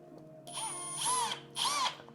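A small handheld drill bit whines through hardened modelling clay in two short bursts, the pitch rising as it bites, close and fairly quiet with no talk.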